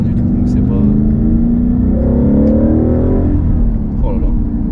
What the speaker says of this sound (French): Je prends plaisir à faire des accélérations, à rentrer dans des courbes. Je prends plaisir à écouter le moteur.